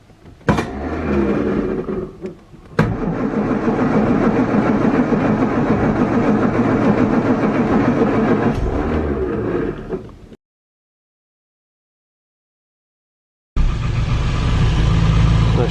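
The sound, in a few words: Morris 8 engine starting and idling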